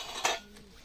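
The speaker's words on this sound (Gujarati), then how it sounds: "વાસણ ઉટકવા બેસી ગઈ છે" Dishes are scrubbed by hand with soap at home, producing a single close clatter of metal utensils followed by soft scraping.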